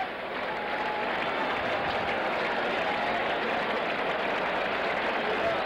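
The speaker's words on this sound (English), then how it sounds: "the crowd getting excited again as Dwight Gooden struck out the side in the 4th" A large crowd at a Mets home game against the Giants roars and applauds steadily as Dwight Gooden works a two-strike count, a continuous broad wash of cheering with no break.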